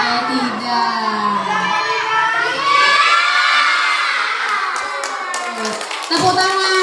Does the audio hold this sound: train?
no